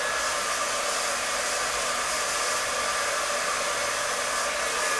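Mondial rotating hair brush running at its top speed, a steady close, loud airy whir with a high motor whine, unbroken for the whole stretch.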